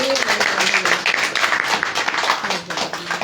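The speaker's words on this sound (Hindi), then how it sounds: "भाई मैं चाहूंगा खुदा के नाम पे एक बार सभी लोग जोरदार ताली बजा दें" A congregation applauding: dense, loud clapping from many hands that fills the whole stretch evenly, close by and sustained.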